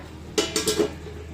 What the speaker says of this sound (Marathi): कढईवरचं आपण झाकण काढूया.